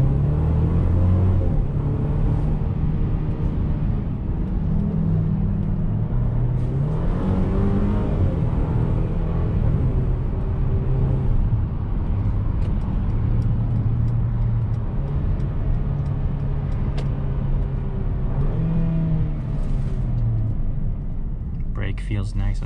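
A 2021 Mercedes-Benz GLC 300 on an evening drive gives a steady, close cabin engine drone whose pitch climbs and settles as it accelerates and shifts quickly through its gears, with a voice talking over it throughout.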